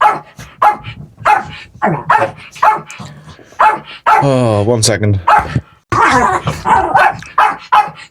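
Two small dogs bark and yip in a loud burst while play fighting under a table, with someone talking before and after the scuffle.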